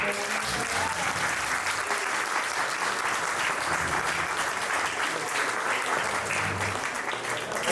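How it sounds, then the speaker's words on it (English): An audience claps after a commissioners forum panel discussion in Miami Beach, a dense, sustained round of applause from a roomful of people that holds steady for several seconds. "Let's have a round of applause for that."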